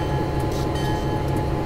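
An American freight train from Train Simulator 2013 runs with a steady low rumble and rolling drone, continuous and fairly close, with no voices.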